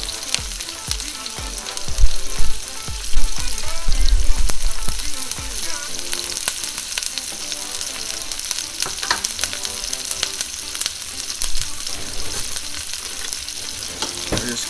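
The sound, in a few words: onions frying in hot oil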